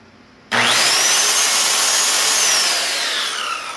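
A hand saw with a worn-out blade cuts through a wooden wall shelf board in one loud, steady stroke close by. The sawing starts abruptly, then slowly fades.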